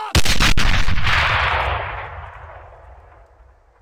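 A barrage of gunfire and artillery in the WW2 strategy game Men of War: Assault Squad 2, with sharp loud close shots, then a long rumbling blast that fades out over several seconds and a new burst at the end.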